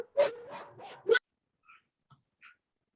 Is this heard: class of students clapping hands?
no